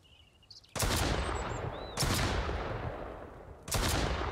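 Gunfire in the Mist Survival video game: three loud, sharp shots spaced about a second or two apart, each trailing off in a long echoing decay, with no talking.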